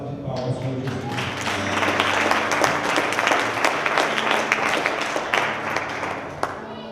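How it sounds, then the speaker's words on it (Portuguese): Church congregation giving a full round of steady applause, dense and close, holding evenly for several seconds with a few sharper claps standing out before it tapers off. "Deu a salva de palmas para Jesus"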